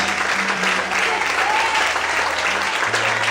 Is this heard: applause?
yes